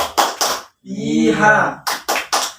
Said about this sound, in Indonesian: Tepuk Papua.